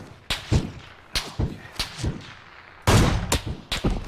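Sharp gunshots ring out in the battle royale game PUBG, about eight cracks in irregular bursts with echoing tails, fairly loud and close, with a denser volley near the end.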